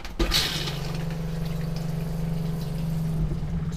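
A travel trailer toilet being flushed with pink antifreeze during winterizing: a sharp clunk of the pedal, then a steady rushing pour of liquid with a low hum that continues evenly for a few seconds.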